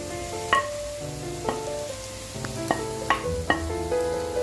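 Sliced onions sizzling in a pan for fried rice, a constant soft frying hiss broken by a handful of sharp spoon clinks and stirring knocks at irregular intervals, close-up with no talking.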